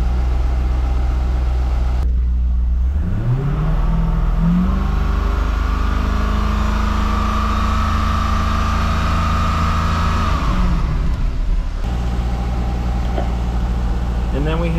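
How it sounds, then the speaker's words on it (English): A Chevrolet C5 Corvette engine, loud and close, rises from idle to a steady hold around 2500 RPM for several seconds, then drops back to idle during a battery load test. "Now it says increase RPM to 2500 and keep it for 5 seconds."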